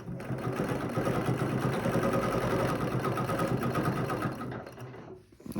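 A sewing machine runs steadily up close, stitching around a beanie design in one continuous mechanical whir that cuts out near the end.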